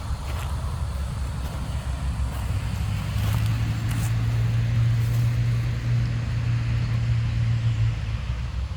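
Steady low rumble of passing vehicles, continuous and fairly loud, with a droning engine tone swelling midway.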